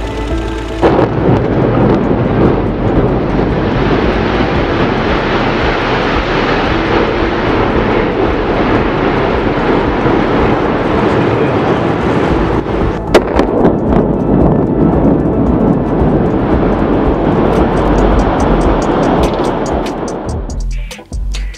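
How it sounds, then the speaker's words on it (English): A building demolition with charges and the structure falling makes a long, loud, rumbling roar that swells and holds for around twenty seconds, then breaks into crackling debris near the end, with no voices. "compare the sound of the demolition charges and the sound of the building falling"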